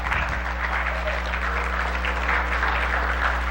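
A church congregation claps for a guest speaker at a Sunday morning Baptist service, an even wash of applause over a low steady hum, brief and unbroken.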